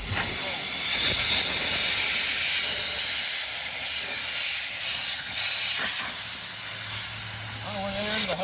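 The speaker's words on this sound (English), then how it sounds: "Because it's gonna start leaking air." Compressed air hisses loudly and steadily from a cut air line on a Peterbilt 389 truck, a continuous close leak that persists throughout with faint voices underneath.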